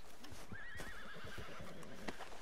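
A horse in the video game Red Dead Redemption 2 neighs with a shrill, wavering whinny that rises over muffled hoof clip-clops and game noise. The sound is close and fairly prominent.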